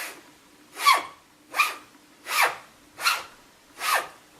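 A straight razor is drawn across a cotton linen strop in five soft, evenly spaced swipes, each a brief breathy rasp, close by in a quiet room.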